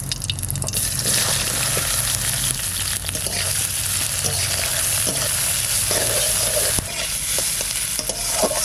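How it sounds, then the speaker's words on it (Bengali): Onion frying in mustard oil in a wok gives a loud, steady sizzle that runs throughout, with occasional stirring scrapes and no talk. "এবার মাশরুম ভাজা করব কড়াইতে তেল দিয়ে দেবো সর্ষের তেল লঙ্কা দেবো না শুকনো লঙ্কা আর দেবো পেঁয়াজ"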